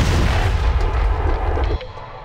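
Frag grenade blast in the mobile shooter Tacticool: a loud, dense low rumble sustained for nearly two seconds, then cutting off abruptly into quieter residual noise.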